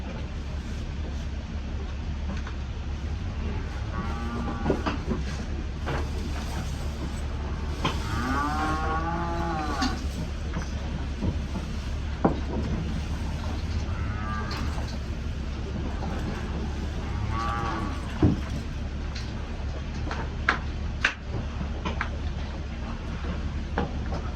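Heifers moo repeatedly inside a barn during grain feeding, several drawn-out calls of varying pitch scattered over a constant low ventilation drone, with occasional clanks and knocks.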